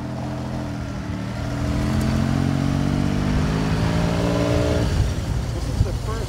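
A 1981 Honda CBX1100 motorcycle cruises at normal speed with a steady, smooth multi-cylinder engine drone, fairly quiet and even, the tone shifting slightly near the end as talk continues over it.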